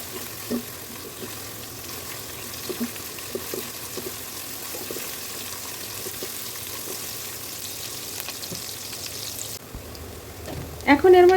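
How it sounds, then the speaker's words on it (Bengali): Chopped onions frying in hot oil, a steady close sizzle with scattered pops and crackles, ending in a brief clatter of utensils. "পেঁয়াজ কুচি একটু হালকা বাদামি কালার করে ভাজি করে নিলাম।"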